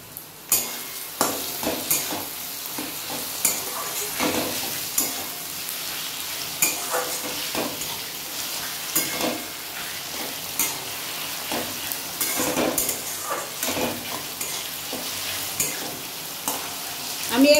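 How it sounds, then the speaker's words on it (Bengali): Sugar and slit green chillies frying in hot spiced oil for Kolkata-style chicken kosha, a steady close sizzle broken by repeated stirring scrapes and light utensil knocks throughout. "এবার আমি এই মশলার তেলের মধ্যে আমি চিনি দিয়ে দেব।"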